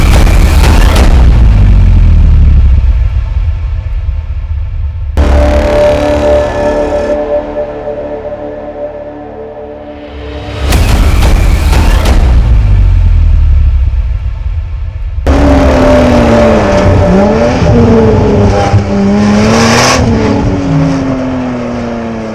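A 2020 Porsche 718 Boxster Spyder with 414 horsepower and rear-wheel drive roars loudly through several hard revving bursts, its exhaust rising and falling in pitch between brief dips, with no talking.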